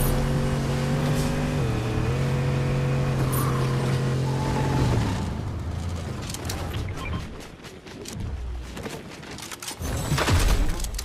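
A car in Fortnite drives with a droning engine note that shifts pitch, then gives way to rough crunching and rattling impacts as the vehicle takes damage, loud and close.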